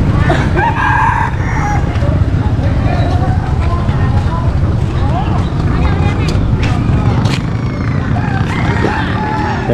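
Chickens at a village market crow and cluck amid a busy, noisy crowd, with people talking throughout and scattered bird calls rising above the chatter.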